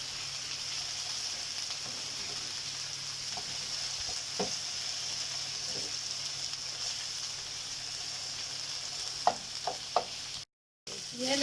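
Potatoes for a sandwich filling fry in a pan with a soft, steady sizzle, broken by a few faint taps and stirs of a utensil near the end.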